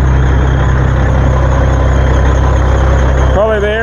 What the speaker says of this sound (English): Probably the air conditioner belt a little bit loose.